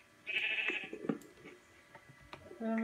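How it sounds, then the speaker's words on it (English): A Minecraft sheep gives a bleat near the start, followed by quieter game clicks and a second short tone at the end, fairly close and faint overall. "Sheep, you can't get out!"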